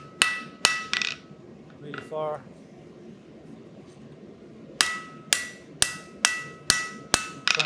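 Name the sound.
blacksmith hammer forging metal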